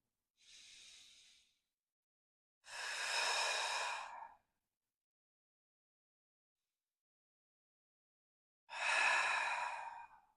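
Slow, deep breaths during a yoga side bend: three separate breaths, a shorter soft one followed by two long, full airy inhales or exhales, close and quiet with silence between them.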